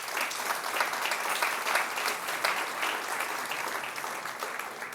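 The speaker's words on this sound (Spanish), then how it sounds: "¿qué tal si damos un aplauso grande al nombre del Señor?" A church congregation gives a big round of applause during a sermon, loud, sustained clapping from many hands that swells and holds steady without talk over it.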